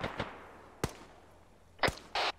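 Sharp gunfire reports from 7.62 rounds off to the north: a few separated cracks, then a tight burst near the end, loud against quiet background.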